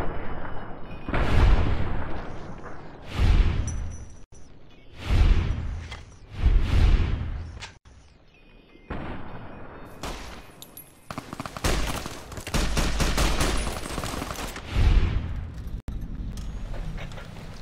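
Gunfire and explosions in the video game Fallout: New Vegas: a series of loud, booming shots in spaced bursts, then a denser stretch of rapid firing and blasts, with almost no talk over them.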